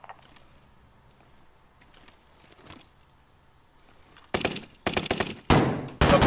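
Loud, sharp gunfire from a sniper rifle in Call of Duty: Modern Warfare arrives as several harsh blasts in the final two seconds, after quiet low game ambience, with no voices.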